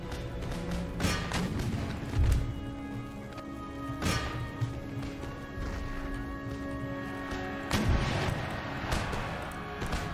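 Cannon and artillery fire in the Empire Total War battle game, with several heavy booming blasts at irregular intervals over a constant dense rumble of battle noise.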